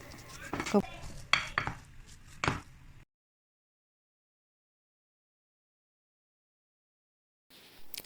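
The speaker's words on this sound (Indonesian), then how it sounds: "lalu diaduk-aduk lagi sampai merata" A utensil scrapes and clatters against a pan as a potato, carrot and chicken mixture is stirred, with a few sharp knocks over about three seconds before silence.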